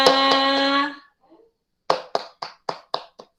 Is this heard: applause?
yes